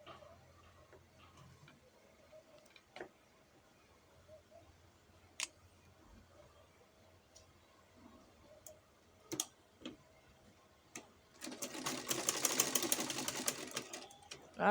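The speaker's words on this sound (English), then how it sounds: "I'm stitching it down." A sewing machine stitches fabric for a short garment, scattered ticks and clicks first, then a close, dense burst of rapid mechanical whirring near the end.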